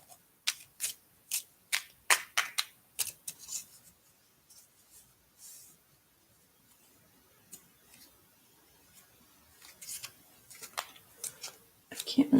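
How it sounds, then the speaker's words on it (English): Tarot cards shuffled by hand in a quiet room, a quick run of sharp riffling flicks and taps, then softer sliding and rustling before a few more crisp snaps at the end. "Just going to shuffle till I feel like they are thoroughly shuffled."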